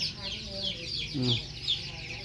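A hen with newly hatched chicks clucks in soft, repeated low calls close by, while chicks peep in high thin chirps throughout and a person speaks nearby.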